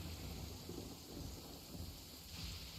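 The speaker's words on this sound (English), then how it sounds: "the lightning. It's so close." Thunder rumbles through a lightning storm in Genshin Impact, a low rolling roar mixed with steady rain hiss, fairly quiet and continuous with no voices.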